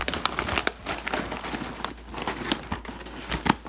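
Plastic packaging being cut open in a kitchen while making guacamole, heard as close crinkling and crackling with a few sharp snips, moderately loud with no speech.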